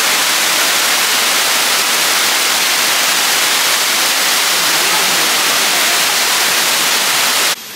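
A waterfall in Bali, a loud, steady broadband roar of falling water that continues unbroken and alone, with no voices, and ends abruptly.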